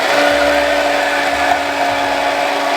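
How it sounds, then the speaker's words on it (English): A blender runs at high speed through a vegan chocolate cake batter, a steady loud whir with a constant tone that holds throughout, with no talking over it. "I prefer the blender because it's kind of like higher speed"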